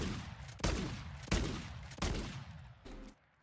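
Dual shotguns in the Warzone video game fire four heavy, booming blasts at a steady pace, each one followed by a short decaying tail, with no voices.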